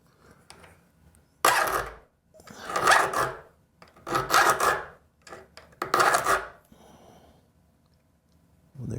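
A hand file rasps across the teeth of a rip saw blade in four distinct close, loud strokes with quiet gaps between them, and no speech.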